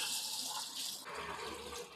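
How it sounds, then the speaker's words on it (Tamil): Water runs steadily into a vessel at home, ready for washing a silk saree, a faint, continuous splashing gush lasting about two seconds with no speech. "வீட்டில் இப்போ தண்ணி ஃபுல் பண்ணிட்டோம்."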